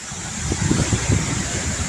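Steady, strong wind roars across the microphone in a continuous rumbling rush, with low gusty buffeting swelling midway.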